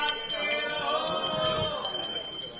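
A Congress leader's hand bell rings at a district election office in Sheopur, Madhya Pradesh: bright metallic strokes repeat in a quick rhythm, their ringing tones overlapping, close and fairly loud, with faint voices around.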